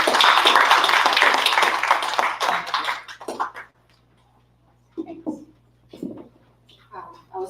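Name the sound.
audience applause for a speaker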